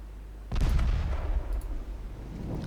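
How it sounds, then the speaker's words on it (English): Torpedoes exploding in the naval strategy game Ultimate Admiral Dreadnoughts: a sudden heavy boom lands about half a second in, then a rumbling roll of blasts that slowly fades under a steady low background hum. "My torpedoes blew up."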